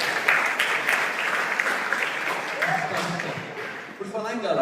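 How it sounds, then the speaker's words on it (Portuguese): A church congregation claps for a member, the applause fairly faint and continuous while a voice talks over it toward the end. "Uma salva de palmas para a Pérsia"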